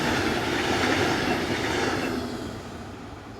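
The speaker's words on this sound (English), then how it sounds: "Also generally worked by Class 182 is the hourly Magdeburg to Frankfurt service." A passenger train hauled by a Class 182 electric locomotive passes close by on a European main line, a loud steady rumble with rail hiss that fades toward the end, no voices.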